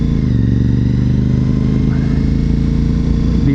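A McLaren car passing by, a steady engine roar heard from a motorcycle rider's perspective amid constant wind and road noise, fairly loud and continuous.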